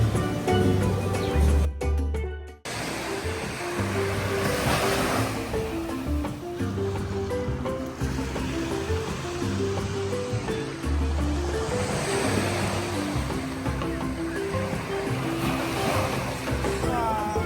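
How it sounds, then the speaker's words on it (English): Surf washes steadily onto Trunk Bay beach on St John in the U.S. Virgin Islands, a continuous broad rush of waves with swelling peaks, briefly interrupted early on, and voices faintly present beneath. "Trunk Bay is one of the most photographed beaches in the U.S. Virgin Islands."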